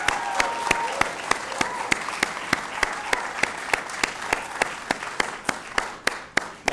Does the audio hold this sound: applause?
yes